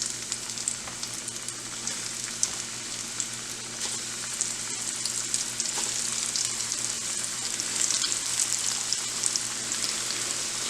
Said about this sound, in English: our oil is hot, and we're going to go ahead and start frying off these pieces of chicken